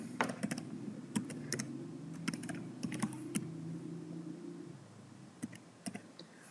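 Typing on a computer keyboard while writing a heading in Dreamweaver, heard as bursts of close, crisp key clicks in irregular runs with short pauses. A low hum sits underneath and fades out partway through.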